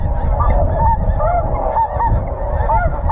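A dense flock of snow geese honks continuously overhead during a goose hunt in Alberta, the many overlapping calls loud and layered, with no talking.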